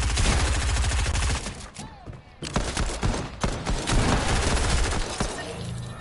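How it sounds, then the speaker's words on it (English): Pistol fire in the video game Fortnite Chapter 2: a rapid burst of loud, close gunshots with dense overlapping cracks, a short lull, then more shots layered over busy game sounds. "I'm gonna use my pistol."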